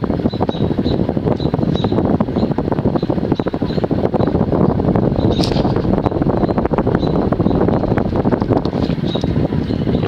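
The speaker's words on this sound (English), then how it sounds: "On high it hums a little bit." Hampton Bay Cameron II Plus 52-inch ceiling fan running on high, a steady broadband whooshing hum with constant loudness throughout and no speech.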